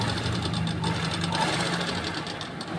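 A sewing machine stitches a blouse belt with a steady, close, continuous mechanical whir and rapid needle rhythm, running alone without talk.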